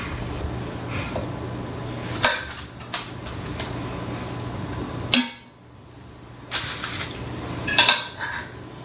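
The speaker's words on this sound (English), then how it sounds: "forcing it down in there with a spoon" A metal spoon packs cream cheese stuffing into cleaned mushrooms, giving scattered clinks and scrapes against a dish, a few sharp taps among soft background hum, close by.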